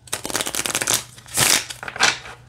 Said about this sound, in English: All right, let's see how they shuffle.